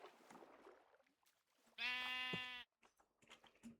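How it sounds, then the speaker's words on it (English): Sheep in the modded Minecraft video game give one loud, harmonic in-game bleat that lasts under a second. Casual talk comes just before it and picks up again soon after. "Stinking sheep."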